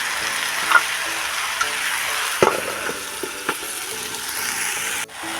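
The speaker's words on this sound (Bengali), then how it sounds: "এইভাবে আমি নাড়তে থাকবো।" Vegetables with spinach frying in a pan, a steady loud sizzle throughout, with occasional clicks and scrapes of a utensil stirring them, and no talking.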